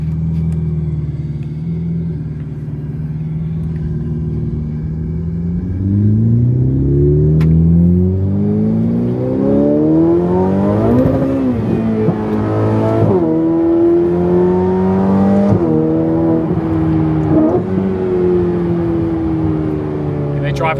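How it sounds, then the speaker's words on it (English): A Ferrari F8 Tributo's engine revs hard as it is driven, rising and falling through repeated climbing pitch sweeps that dominate the cabin, loud and close, with speech heard under it. "And now I'm sitting in a Ferrari F8 Tributo."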